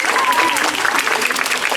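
A crowd at a sea lion show claps for Dante the sea lion, a loud, close burst of applause with a voice briefly audible over the clapping.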